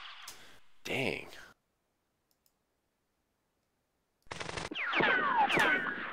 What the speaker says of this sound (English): Shoot the machine gun.